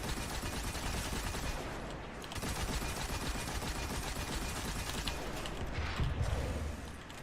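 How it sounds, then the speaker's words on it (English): Sustained automatic gunfire aimed at a boss in Destiny 2 during a solo strike, a dense, loud rattling stream of shots with mechanical clanks and a brief lull partway through. "Keep shooting him."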